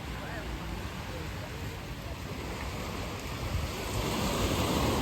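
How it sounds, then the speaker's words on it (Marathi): Ocean surf breaks on a Goa beach as a steady, broad roar mixed with wind buffeting the microphone, swelling a little louder toward the end. "लाटा बघा किती जोरात यायला लागलेत"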